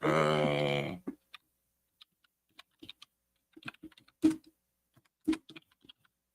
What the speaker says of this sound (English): I'll have to type this real quick here.